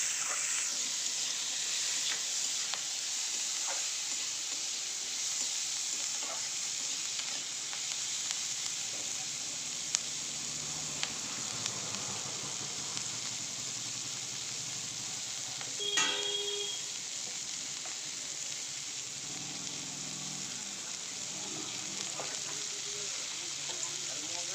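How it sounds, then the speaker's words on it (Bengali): Slices of pointed gourd fry in a pan set over a wood fire on a new stove. The sizzle is steady and soft and runs throughout, with occasional light clinks and scrapes. "পটলগুলো ভেজে নিচ্ছি, লাল লাল করে ভালো করে ভেজে নিচ্ছি"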